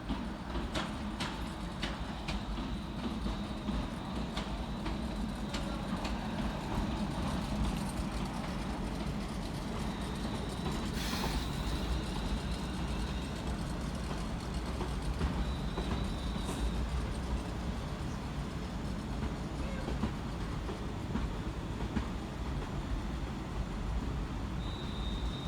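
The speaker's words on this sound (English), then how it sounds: "Terminating on the far side with the London Northwestern Railway service off of Stafford is" Electric multiple-unit train of London Northwestern Railway, a Class 350, sounding steadily at Crewe station with a low rumble, faint rail clicks and brief high tones, no talk.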